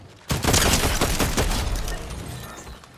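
A loud, close volley of rapid gunfire in Fortnite opens abruptly and rattles on in dense bursts before slowly fading, with no talking.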